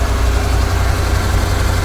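A freshly repaired inboard engine on a Sea Ray 210 Monaco boat runs out of the water, a loud, close, steady low idle with a fast regular chug.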